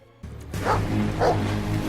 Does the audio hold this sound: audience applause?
no